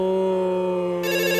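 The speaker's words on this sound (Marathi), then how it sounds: "अरे फोन वाजतोय तुझा." A telephone rings in a Marathi comedy sketch, a steady electronic ring sounding loud and continuous throughout with a brighter tone joining near the end, no talk over it.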